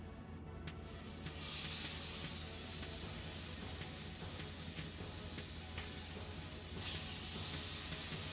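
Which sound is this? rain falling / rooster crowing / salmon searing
salmon searing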